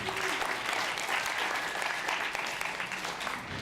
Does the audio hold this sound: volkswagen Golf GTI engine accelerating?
no